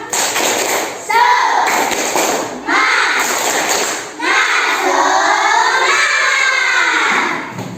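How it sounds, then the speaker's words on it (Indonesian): Schoolchildren in a classroom perform a 'tepuk semangat' spirit clap, a loud group chant with shouted voices and rhythmic clapping bursts that come in several rising phrases and fill the room. "Boleh tepuk semangat dulu ya?"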